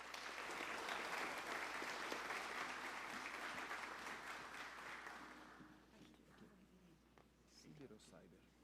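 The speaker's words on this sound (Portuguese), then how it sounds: "Uma salva de palmas também." An audience at a Bible Day tribute ceremony in the São Paulo state legislature claps loudly and steadily, and the applause tapers off after about five seconds as a voice begins speaking.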